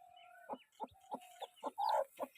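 A mother hen with newly hatched chicks clucks in a steady rhythm of about eight short, close clucks. Faint, thin peeping runs between them.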